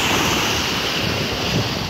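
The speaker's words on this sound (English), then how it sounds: "Look at these waves coming in." Atlantic Ocean surf rolling onto the beach at Myrtle Beach, a steady broadband wash of breaking waves with wind rumbling against the microphone throughout.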